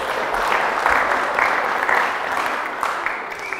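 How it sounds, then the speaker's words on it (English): A church congregation gives a round of applause, a short burst of dense, steady clapping close by and fairly loud, with faint voices mixed in. "give them a round of applause"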